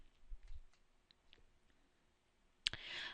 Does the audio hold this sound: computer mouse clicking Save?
yes